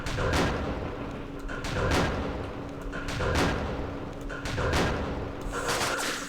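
Anti-tank guns fire in Campaign Series East Front at Kursk: about five heavy booming shots, roughly one every second and a half, loud and close over a steady rumbling backdrop.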